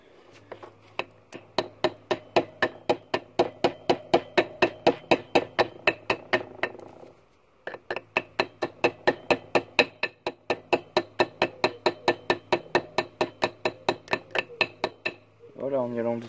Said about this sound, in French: Au final, on peut le faire au marteau, on y allant vraiment très doucement